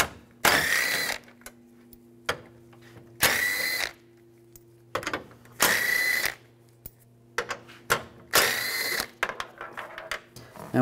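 A power tool with a 10 mm socket backs out grille screws on a 2007-2013 Chevrolet Silverado, giving four loud whirring bursts of about a second each, separated by quiet gaps with small clicks and taps.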